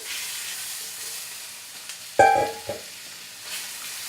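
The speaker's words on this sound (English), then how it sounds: "now that our pan is nice and hot, we're gonna add our turkey in." Ground turkey dropping into a hot nonstick pan gives a sudden burst of sizzle that settles into a steady frying hiss, close and fairly loud, with a brief clatter as the meat lands.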